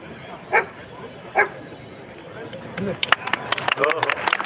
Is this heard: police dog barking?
yes